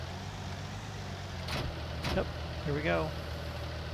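Tractor with a front loader idling in Farming Simulator 19, a low steady engine drone running throughout, with someone talking briefly over it.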